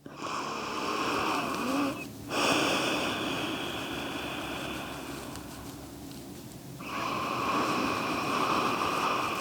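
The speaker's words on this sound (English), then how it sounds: "establishing that breath pattern in and out through your nose. A slight constriction in the back of your throat." Slow breathing in and out through the nose with the throat slightly constricted, giving a hissing, ocean-like rasp during a vinyasa yoga session. Long close breaths follow one another with a short pause between them.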